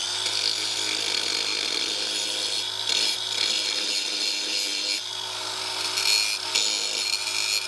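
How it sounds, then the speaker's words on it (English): A metal flange on an old Ford is beveled along its outside edge. The tool gives a continuous, loud abrasive grinding and rasping that stays fairly steady, with slight surges as the work shifts. "We're gonna give it a bevel on the outside edge, and that way we have something to weld into."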